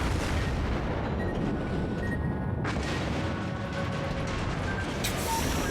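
Naval guns fire in World of Warships amid a dense, rumbling battle din, with a couple of sharp booming reports standing out from the constant low roar.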